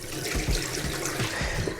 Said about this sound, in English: We can now give our tap a test.